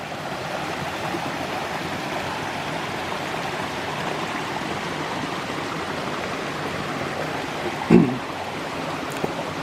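A mountain stream flows at Buck Hollow in Shenandoah National Park, a steady close rushing wash of water with a brief knock or bump near the end.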